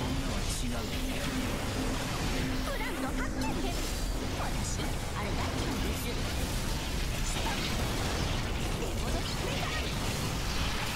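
Game-combat clamor from Fate Extella as enemies blow up: a steady, dense wash of crashes, bursts and swooshes filling the whole stretch, with a player's voice talking over it.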